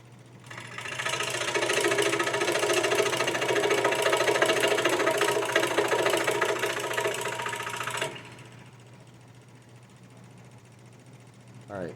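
Scroll saw cutting a wider channel through wood, a steady buzzing, rattling drone for about eight seconds that stops abruptly, leaving a low motor hum.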